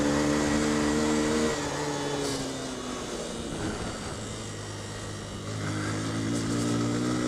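Yamaha FZS 150 motorcycle engine on a rough road in Pokhara, Nepal, loud and close, revving with a falling pitch then settling into a steady drone before rising again, with wind noise throughout.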